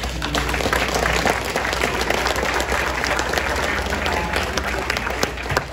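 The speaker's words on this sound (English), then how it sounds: "Let's give them a great big round of applause." Loud, sustained audience applause at a gathering for a veterans' housing building at the West LA VA National Soldiers' Home, dense crowd clapping with a few sharper claps standing out near the end.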